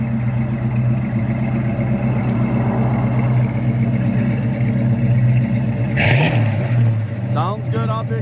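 A 1967 Chevrolet Camaro RS with matching numbers rumbles steadily through its exhaust, a deep, loud, close idle with a slight swell partway through, then a brief clunk and rattle near the end.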